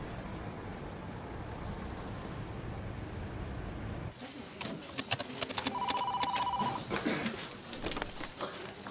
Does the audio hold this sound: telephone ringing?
yes